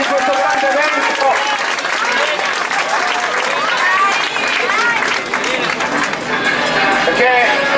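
Crowd applause at the opening ceremony of a youth football tournament in Milan, a sustained broad clapping under a loud announcer's voice over the public address, with scattered crowd noise.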